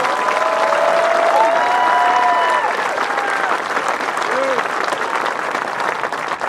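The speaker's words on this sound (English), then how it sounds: "Please join me in giving our seniors a round of applause for all that they have accomplished" The crowd at the Lake Fenton High School 2023 commencement ceremony applauds the graduating seniors in a loud, sustained wash of clapping, with faint cheers and whistles rising through it.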